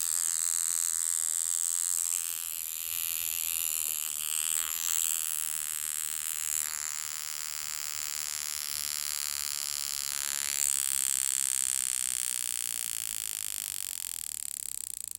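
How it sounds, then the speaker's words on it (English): A continuous high, thin buzzing from a Jaeger-LeCoultre E855 Memovox mechanical wristwatch alarm drones for the whole stretch, steady and fairly faint, with a few brief clicks and shifts in pitch along the way. "The alarm was ringing, of course, because the hour hand meets the alarm arrow."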